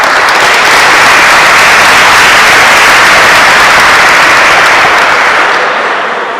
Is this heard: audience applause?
yes